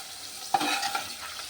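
Paneer cooking in a little oil with ginger, tomato and green chili paste, a soft background sizzle broken by a sharp stirring scrape and a few spoon clinks, fairly quiet, no voices.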